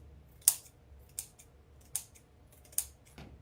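Scissors trim ratty fabric for a magnolia flower wreath, giving four or five crisp, separate snips about half a second apart, close and quiet over a near-silent background.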